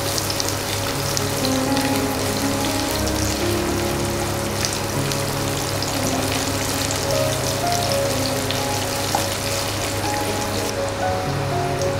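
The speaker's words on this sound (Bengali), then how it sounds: "এরপর 1টা মাঝারি পেঁয়াজকে নর্মালভাবে কুচিয়ে ভেজে নেব।" A medium onion, chopped, frying in oil for soybean kofta curry, a constant crackling sizzle like rain on a surface, with background music over it throughout.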